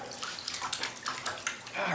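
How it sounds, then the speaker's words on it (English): Water running from a kitchen sink tap in a home, a steady close splashing stream with brief bursts of louder spray over about two seconds. "Quick, get over to the sink and run the water."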